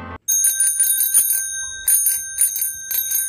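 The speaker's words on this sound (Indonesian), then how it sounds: "suara bel sepeda dibuat oleh manusia" A bicycle bell rings in repeated quick trills, bright and metallic, in several bursts with short pauses between them, close and clear.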